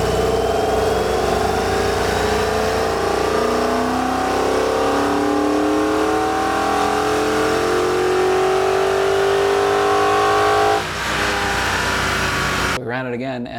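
A car engine fitted with aftermarket headers revs hard on a dyno, a loud sustained climbing roar with rising harmonics that drops off abruptly near the end as the run ends.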